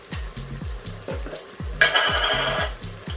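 Hot oil sizzling as onions go in, with a bright hiss swelling midway and repeated low scraping stir strokes in a steady rhythm, close and loud.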